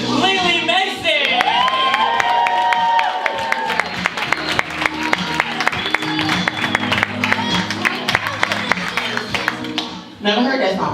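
Comedy club crowd applauding and cheering for a stand-up comedian, heavy clapping and whoops layered under loud music with tonal melody, dense and sustained before dropping off near the end.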